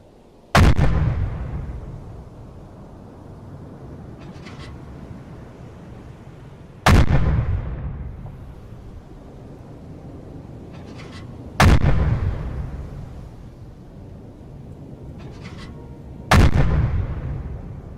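A U-boat deck gun fires high-explosive rounds in a 1943 convoy naval video game. Four loud booming shots come at even intervals of about five seconds, and each blast decays into a long rumbling tail.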